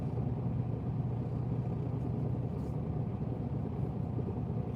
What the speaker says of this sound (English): so now there's a truck going that way, coming in from that way